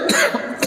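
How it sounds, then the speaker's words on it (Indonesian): Two sharp coughs from a man during a religious study gathering, close and fairly loud, the first near the start and the second shortly after a brief pause, with no speech. "Nah batuk ini."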